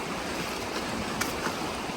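River water rushes over rocks in the Zion Narrows in Utah, a dense, close, continuous hiss and wash with small splashes breaking through, no voices.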